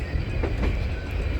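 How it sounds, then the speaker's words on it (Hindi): A train rumbles steadily on rails near Rajpura Junction, heard from aboard a moving intercity express, with continuous low wheel-and-track noise and faint clicking throughout. "कोई ट्रेन आ रही है, पता नहीं कौन सी ट्रेन है"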